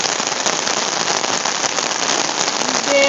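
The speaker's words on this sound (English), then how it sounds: "do you hear that rain?" Heavy rain pours down during a thunderstorm, a dense, steady hiss of drops drumming on surfaces close by, with no voices.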